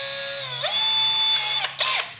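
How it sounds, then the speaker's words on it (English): A cordless hammer drill fitted with a masonry bit whirs steadily while hammering, a high-pitched motor whine rising and dipping in pitch across a couple of seconds, briefly easing off near the end, loud and close with no voices. "So as this drill is spinning, it's also hammering down onto the material."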